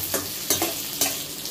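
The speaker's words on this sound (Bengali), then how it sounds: "লঙ্কা কুচি দিয়েও একটুখানি নাড়াচাড়া করে নেব" Onion and chopped green chili fry and get stirred in a pan, with a spatula scraping three times in quick strokes over a steady close sizzle.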